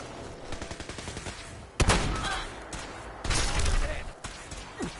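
Gunfire in the shooter game Fallout 4 crackles in rapid bursts, with two heavier volleys of shots standing out loudly against a busy background of game noise.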